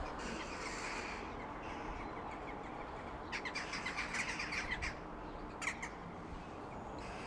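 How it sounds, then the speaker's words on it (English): A flock of crows caws repeatedly at a distance over a steady outdoor background noise, with harsh calls clustering in bursts toward the middle and a final isolated squawk. "That's a lot of crows."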